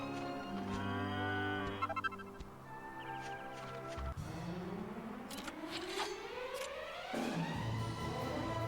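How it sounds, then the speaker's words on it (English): A cow moos in the PS2 game Dragon Quest VIII, a long low bellow rising and falling in pitch, heard clearly over game music with no talking. "Ooh, a cow."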